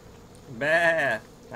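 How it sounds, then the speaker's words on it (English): Goat bleating once, a loud, nasal, wavering cry lasting about half a second, with the start of a second bleat cut off at the end. "Goat."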